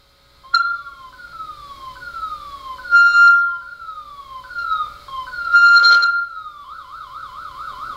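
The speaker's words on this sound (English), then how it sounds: "Hear how the tone is changing every time I touch the wires together for a couple seconds?" A Fluke Pro3000 tone generator emits a loud electronic warbling tone that repeatedly sweeps downward, its pitch and pattern changing each time the wires are touched together, shifting at the end to a rapid wavering trill.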